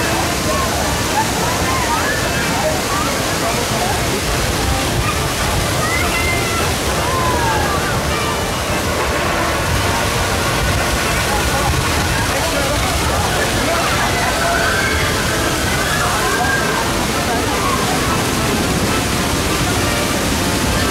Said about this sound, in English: let's walk down to the thing and watch people get splashed